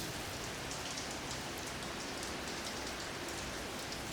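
Steady rain falling in a courtyard beside St Mark's Square in Venice, a continuous close hiss of drops pattering on stone with no voices.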